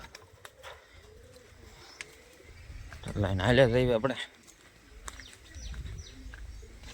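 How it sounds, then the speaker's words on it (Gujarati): Racer pigeons coo in a loft, with a louder burst of cooing in the middle amid wing flutters and small noises, while someone talks nearby. "ભૈયા આ બધા કબૂતર અહીં સણે છે"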